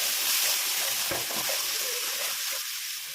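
Shrimp paste hissing and sizzling as it fries in a pan of taro stems with prawns, a steady close frying noise with a few stirring scrapes.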